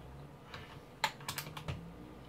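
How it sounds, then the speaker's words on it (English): Keycap being pulled off the number 3 key of a Corsair Vengeance K70 mechanical gaming keyboard with Cherry MX Red switches: a few quiet plastic clicks and taps in quick succession, close and faint. "if I just pull the number 3 key off"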